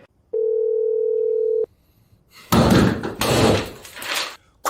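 A steady telephone dial tone rings out loud and alone for about a second, then stops, followed by several heavy thuds like a door slamming and knocking.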